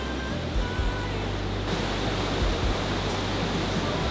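Rushing water beside the road to Milford Sound in New Zealand, a steady broadband roar that holds evenly throughout with no voices over it.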